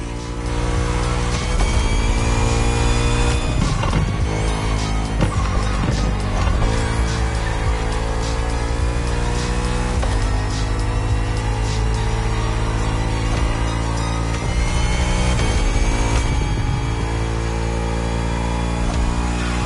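Bugatti Vision GT engine revving loud and close, a continuous roaring drive with repeated surges in pitch and brief tire squeal, no voices.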